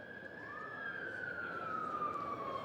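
A fire engine siren wails in the distance along a busy street near a fire station, its tone sliding steadily over a low rumble of traffic, with no one speaking nearby.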